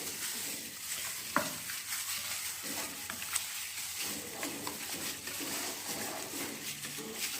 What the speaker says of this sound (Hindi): हाथों की मदद से अच्छी तरह इसे मिक्स करेंगे